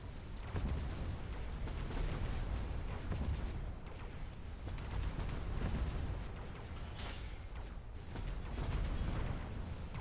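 Steady rumble of repeated cannon blasts and booms in the game Mechabellum, dense and continuous with no speech.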